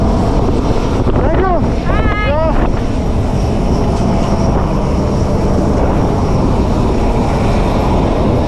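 Airplane engine running beside the aircraft just before boarding in freezing Antarctica, a loud, steady broadband roar mixed with wind buffeting the microphone, with brief voices near the start.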